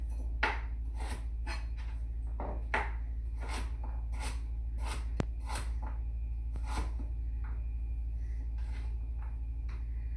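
Carrots from the garden being cut up for canning: a knife strikes the board in irregular, crisp chops, fairly quiet and spaced through the stretch over a steady low background hum.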